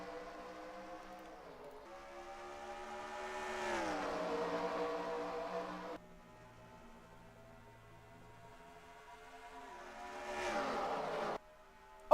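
Race trucks in the NASCAR Racing 2003 video game at Rockingham, engines droning and rising in pitch as they pass, with a quiet gap before another truck roars through, no talk.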